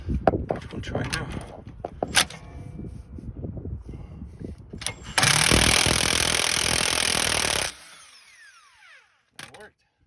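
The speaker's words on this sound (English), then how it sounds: "You also might have some luck trying to lock it from the back with the vice grip and then hitting it with a power drill." A power drill runs hard for about two and a half seconds, driving a stuck rear sway bar link nut on a 2012-2017 Toyota Camry held with vice grips, loud and steady, then cuts off; clanking tool sounds and some workshop noise come before it.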